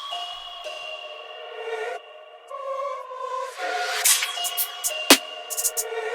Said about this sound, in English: So we're also going to use this impact,